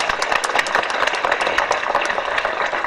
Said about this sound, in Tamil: நல்ல கரகோஷம் கொடுங்க